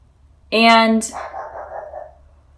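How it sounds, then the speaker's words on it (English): A dog gives a single loud bark followed by a rough, trailing growl-like yelp, close by against a quiet background. "I don't know why my dog is barking"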